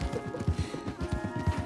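Horse hooves in Red Dead Redemption 2, a quiet, steady clip-clop of several horses moving at a walk along a woodland path, evenly rhythmic with a faint steady hum behind.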